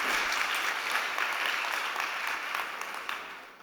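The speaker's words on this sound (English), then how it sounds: "A big round of applause." An audience at a startup competition event claps in a dense, steady round of applause that fades gradually toward the end.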